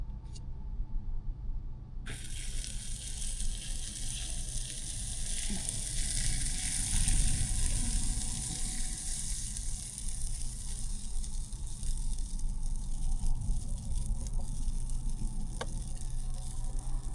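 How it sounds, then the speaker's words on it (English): Almond flour waffles cook in a Bella waffle maker, giving off a steady, soft hiss and sizzle that starts after a short quiet moment and holds evenly throughout, with no voices. "We're going to cook these waffles."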